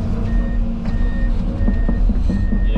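A Bobcat loader arrives at a sand house-pad site with its reversing alarm beeping at a steady pace over a loud, close diesel engine rumble.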